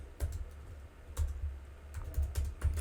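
Keys clatter on a computer keyboard in short bursts of typing, close and fairly quiet over a low background hum, with no voices.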